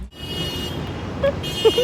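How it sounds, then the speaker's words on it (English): A couple of short car horn toots sound over steady Chicago street traffic noise, brief and somewhat distant. "We getting honked at."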